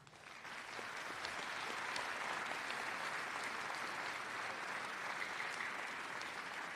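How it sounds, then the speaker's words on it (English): A crowd at a high school graduation claps steadily and continuously, a dense, even wash of applause that swells in quickly and holds without voices. "let's all give a round of applause"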